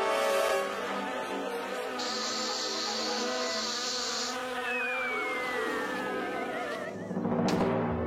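Cartoon bees swarm out of a beehive with a steady, loud insect buzz lasting throughout, joined midway by a sustained whine and a rising whistle, ending in a brief louder burst.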